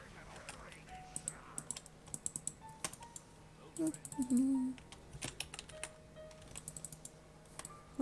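Computer keyboard typing during a World of Warcraft Shadowlands Castle Nathria raid: scattered bursts of quick, light clicks at close range, with faint game sounds and a brief voice in the background.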